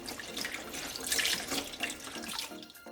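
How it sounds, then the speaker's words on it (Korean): About 500 g of bean sprouts are rinsed under a running kitchen tap, with steady close splashing and gurgling water in a sink and no voices. "콩나물 500g은 물에 3번 정도 씻어서"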